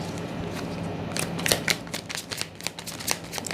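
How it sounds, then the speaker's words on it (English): Holographic tarot cards are shuffled by hand, starting as a soft riffle and turning into a string of crisp, close slaps and flutters, quiet and without any voice. "As I go ahead and shuffle"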